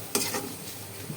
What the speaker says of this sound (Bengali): এগুলো ভালো করে কষিয়ে তারপর আমি এই যে ভেজে রাখা মাংসগুলো দিয়ে দেব।